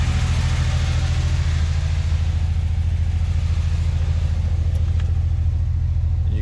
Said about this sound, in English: Hopefully the sound on that comes through where you can hear the actual misfire.